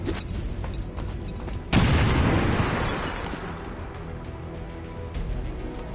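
A grenade explodes in the XCOM video game with a single sudden loud boom after a few light clicks, followed by a long rumbling decay of debris and echo.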